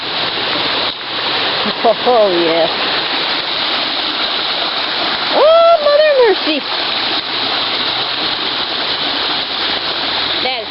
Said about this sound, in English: Get a good view of the river over here